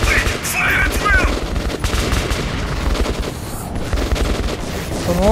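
Rapid bursts of automatic gunfire and overlapping shots crackle loudly in the tunnel combat of the video game Metro 2033 Redux, a dense fusillade running throughout with faint voices now and then.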